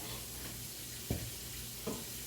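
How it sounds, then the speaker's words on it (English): Onions sauté in a pan with a steady, loud sizzle and hiss throughout, broken by two brief scrapes or stirs of a utensil. "How do you know when onions are done sauteing"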